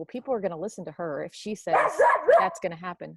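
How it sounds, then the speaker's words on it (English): A dog gives short yips and barks in the background, mixed with whimpering, while a person keeps talking over it in a room. "that's my dog"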